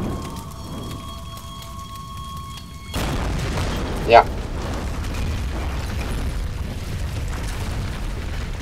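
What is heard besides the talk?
explosion in a video game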